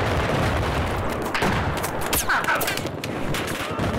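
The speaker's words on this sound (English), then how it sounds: "Oh god, someone's shooting at us from B." Dense, continuous gunfire in a Battlefield 4 match on the Shanghai map, sustained bursts and shots crackling throughout with a couple of sharper reports standing out, loud and close, no talk over it.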